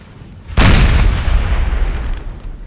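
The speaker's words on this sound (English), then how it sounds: "We've got artillery pieces here." A 4-pounder artillery piece in Napoleon: Total War fires once in a sudden loud boom, and its deep rumble trails off over the next couple of seconds.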